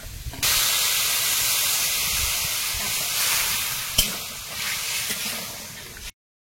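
A loud, continuous hiss of water poured into a hot pan after frying drumsticks and bitter gourd, steady and close, with one brief knock partway through before it stops abruptly.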